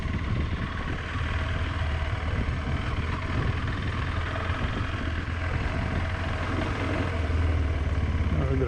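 A KTM adventure motorcycle rides in second gear over wet trail ground, its engine giving a steady, rumbling drone with some clatter, heard from a moderate distance throughout.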